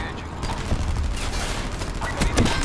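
Gunfire in the video game Black Ops 4, a dense rattling fusillade of rapid shots running steadily throughout with heavier bursts near the end, loud and continuous.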